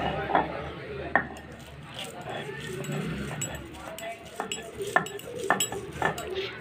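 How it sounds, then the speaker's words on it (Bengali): Banana flower is ground on a stone shil-pata in a village kitchen, giving scattered gritty scrapes and clinks of stone on stone, with someone talking throughout. "এখন আমি কলার মোচাগুলো বেটে নেব একে একে।"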